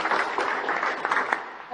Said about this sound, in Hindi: ताली बजाओ, गोल्ड मेडल जीती है।